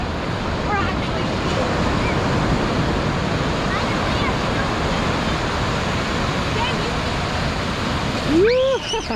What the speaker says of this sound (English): Look at the waves, guys. There's a lot of waves today.